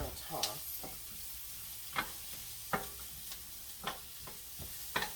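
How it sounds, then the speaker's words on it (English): Vegetables for keto shrimp fried rice sizzle steadily in a pan while a wooden spatula tosses them, with repeated scraping knocks at irregular intervals, close and fairly loud. "I think I'm gonna use a wooden spatula and give these a good toss."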